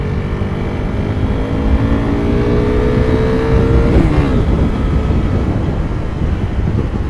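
A 2015 KTM RC390 motorcycle under way, its engine droning loud and steady with the pitch climbing through a gear, a quick shift, then the drone settling back among wind rush.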